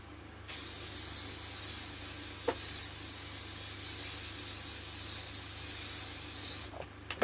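Hairspray is sprayed onto freshly dyed hair while it is being pinned up, a steady close hiss lasting several seconds with a brief knock partway through, ending abruptly.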